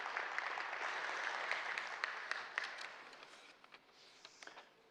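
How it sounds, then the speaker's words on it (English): Steady audience applause in a conference hall greeting the Ambassador of France to India at an Indo-French investment conclave, dense clapping that thins out and fades toward the end. "Can we again have a huge round of applause to welcome him?"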